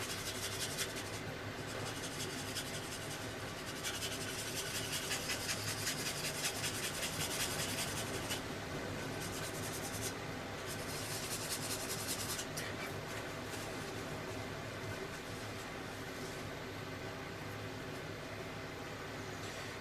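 Sanding lumps off a plastic part from a 1:48 Revell F-14D Super Tomcat model kit, a continuous close rubbing and scraping that carries on steadily with no talk.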